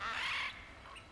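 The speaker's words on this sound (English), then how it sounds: "Bird." Bird calls in God of War Ragnarök, a bright burst of fowl-like honking squawks up close for about half a second, followed by a fainter tail of calls.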